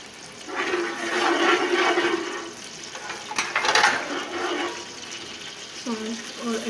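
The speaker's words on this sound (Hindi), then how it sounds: "फिर हम इसमें अपना ये गुड़ वाला पानी जो है वो मिलाएंगे" Jaggery water pours steadily into a pot with a rushing, splashing sound, then tapers off into softer clinks and movement.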